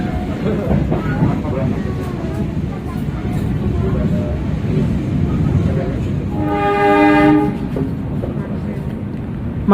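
A train pulls into Bandung station in Indonesia, its rumble steady throughout while a bright horn blast sounds near the end, with someone talking over the rolling noise.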